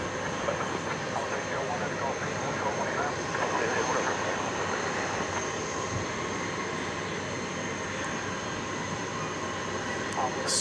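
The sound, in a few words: Turkish Airlines Flight 192 airliner taxiing at DFW Airport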